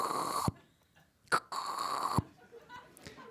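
A voice imitates a dentist's drill: a sustained high whine cut off abruptly, a brief burst, then a second long whine ending in a thump, with faint breathy noises after, close and alone.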